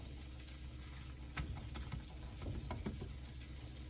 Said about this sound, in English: we're gonna go ahead and put in our flour and whisk that in